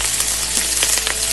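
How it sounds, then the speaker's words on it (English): Shrimp sear in a hot pan for scampi, giving a steady, close crackling sizzle with small pops throughout and no voices. "you wanna hear that and see that nice sizzle"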